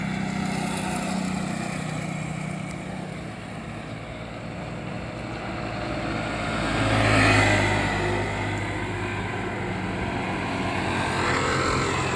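Motorcycles approaching on a road, their engines a steady droning rumble that swells to a louder peak midway before settling back to a continuous hum.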